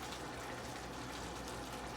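Sizzling, bubbling liquid hisses continuously and softly as water is added to a pan of browning red potatoes.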